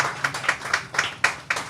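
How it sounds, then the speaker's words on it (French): An audience applauding at a ceremony, clapping together in an even, rhythmic beat of about four claps per second, moderately close and with no voices over it. "Je vous demande d'applaudir"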